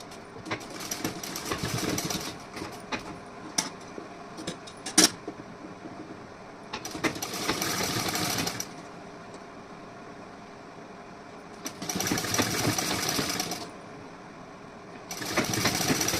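An electric sewing machine stitches a decorative neckline in three or four bursts of rapid whirring needle strokes, separated by short quiet pauses, close and fairly loud.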